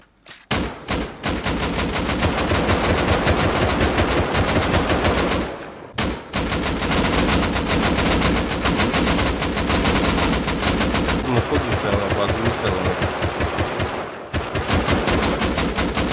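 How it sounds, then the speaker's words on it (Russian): Loud sustained automatic gunfire in the video game Rust, with rapid shots running almost continuously and two brief pauses. "стреляй пару раз"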